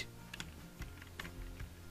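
Quiet typing on a computer keyboard, a handful of soft irregular key clicks over a low background hum, with no voices.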